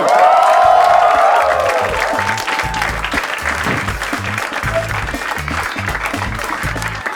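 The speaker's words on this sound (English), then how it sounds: "Please give a huge round of applause to Ronak Rajani" A studio audience at a comedy panel game show breaks into loud, sustained applause with some cheering as a comedian is introduced, while a steady music beat plays underneath.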